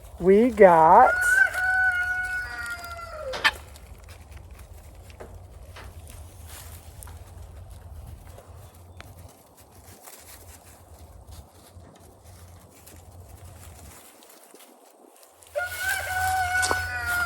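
Guinea fowl call in a garden with loud, harsh, rising cries at the start and again at the end, while someone talks briefly and quiet outdoor background fills the middle.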